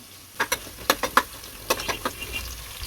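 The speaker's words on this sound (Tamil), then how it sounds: "இந்த அளவுக்கு வெங்காயத்தை வதக்கிட்டோம் இப்போ கொஞ்சம் ரம்ப இலையே இதில் சேர்த்துப்போம்" Rampe leaves are added to onions sautéing in oil for a beef gravy, with a faint sizzle under a quick run of crisp crackles and pops.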